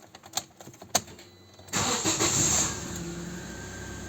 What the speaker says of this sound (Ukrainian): Знову запускаємо двигун.